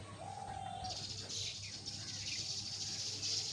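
Pigeons coo faintly inside a pigeon loft. The soft calls sit low under a quiet steady hum, with a brief whistle-like tone near the start.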